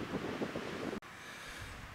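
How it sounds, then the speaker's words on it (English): Continuous blustery wind buffeting the microphone, a dense low roar that briefly cuts out for an instant midway before resuming. "It's quite windy."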